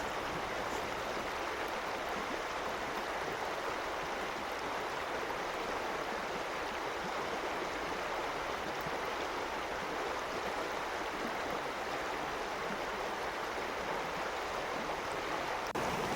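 A winter mountain stream in Calgary at minus fifteen degrees runs steadily, a constant broadband rush of flowing water that stays even and unbroken throughout with no voices.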